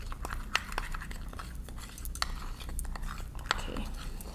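Food colouring is stirred into sugar skull icing, giving soft, scattered scrapes and light clicks of a utensil against a bowl at close range, with a few sharper taps.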